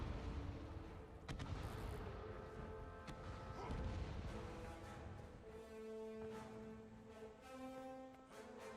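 Cannons fire in a Guild Wars 2 match, a run of booming artillery shots with sharp transients amid dense game noise, tones and music, moderately loud throughout.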